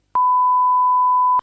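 A single clean electronic beep, a steady pure tone lasting just over a second, loud and isolated, starting and stopping abruptly.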